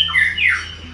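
A cucak cungkok songbird gives a short, sharp squawking call that sweeps downward, loud and close, with a steady low hum underneath and no other sounds.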